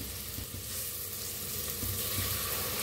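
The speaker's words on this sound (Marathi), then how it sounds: "आता टाकूया तांदूळ, स्वच्छ धुवून घेतलेला आहे।" Washed rice tipped into hot spices frying in a pressure cooker for masale bhat, giving a steady, close sizzle with soft stirring scrapes and no talking.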